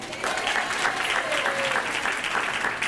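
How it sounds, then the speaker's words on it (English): An audience at a corporate event applauds steadily and loudly, a dense, even wash of many hands clapping that holds for the whole stretch without a break. "give her a big round of applause"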